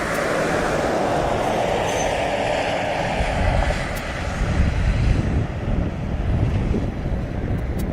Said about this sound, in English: we have that 767, as you can see, and just behind that, taxiing out, is another DHL